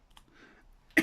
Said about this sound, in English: I have a little bit of a cough this morning